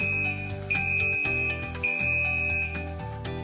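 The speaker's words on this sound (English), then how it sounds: "An alarm is activated." A chemical dosing system's electronic alarm sounds as a steady, loud tonal beeping in repeating long pulses, with no talk.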